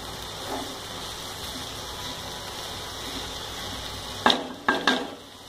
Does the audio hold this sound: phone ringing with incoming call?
no